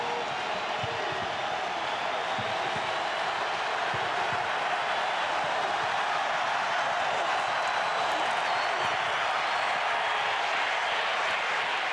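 A large college football stadium crowd at Alabama versus Ole Miss in 2003 roars as fans rise on a third-and-goal play, a broad, sustained, distant wash of cheering that holds steady throughout.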